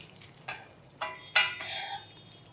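Mustard seeds and cumin drop into hot oil for coconut rice, giving a few sharp sizzling bursts with stirring clatter in between, fairly quiet and close, with no talk.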